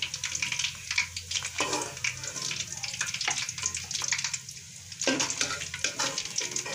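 Spicy fish fillets sizzle and crackle in hot frying oil, a steady close bubbling hiss with occasional stirring clatter.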